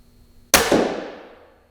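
A TenPoint Nitro 505 crossbow bolt strikes a spiderweb target at 20 yards on an indoor range with a single sharp, loud smack that rings out and decays over about a second.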